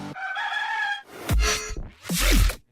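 A rooster crows loudly and close by, then gives a couple of harsh squawking clucks.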